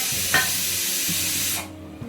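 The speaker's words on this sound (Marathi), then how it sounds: "आता शिजायला लागलाय आपला फोडणीचा भात" Tempered rice (phodnicha bhaat) cooks in a pot with a steady, close hissing sizzle that cuts off abruptly near the end, leaving a low background hum and no talk.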